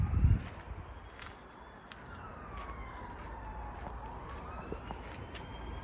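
A police car siren wails in the distance, its rising and falling tone sweeping steadily over a low rumble of street noise, with a brief thump at the very start.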